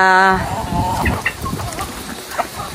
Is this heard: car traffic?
no